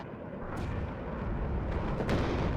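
Cluster munitions striking in WARNO, a dense rumbling rattle of overlapping impacts and bursts, with a couple of sharper cracks near the end.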